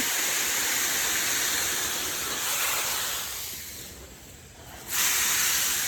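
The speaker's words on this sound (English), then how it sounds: "So let's just water these a little bit." Water sprays from a hose onto garden plants in a steady, loud hiss that softens for a while and then surges back to full strength, with no talk over it.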